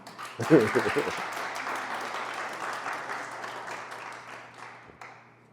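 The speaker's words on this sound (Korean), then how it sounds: "격려의 박수 한번 할까요?" A church congregation breaks into encouraging applause that peaks quickly, then softens and fades away over several seconds, with a voice briefly audible at the start.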